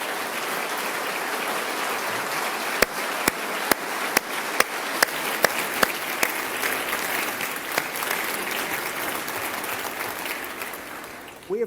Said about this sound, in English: Tina is with us today in the gallery, and let's give her and John a round of applause.